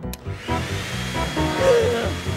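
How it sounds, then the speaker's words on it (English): A cartoon vacuum cleaner runs with a buzzing, whirring motor drone that pulses slightly, close and fairly loud, with a brief squeaky sound effect near the end. "A vacuum cleaner!"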